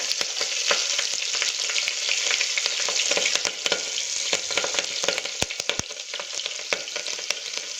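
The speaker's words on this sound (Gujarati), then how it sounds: "તેલ અને બટરમાં સારી રીતે આપણે થવા દઈશું। ત્યારબાદ આપણે લાંબા સમારેલા મરચાં એડ કરી દઈશું।" Sliced chillies fry in oil and butter, along with cumin and whole spices, for chhole pulao: a dense, constant sizzle with scattered pops and stirring clicks close by.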